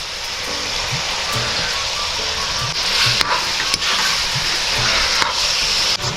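Curry leaves and tomato dropped into hot oil with ginger-garlic paste in a pan for a Kerala prawn roast: a loud, steady close sizzle and crackle, with occasional scraping stirs and brief spits breaking through.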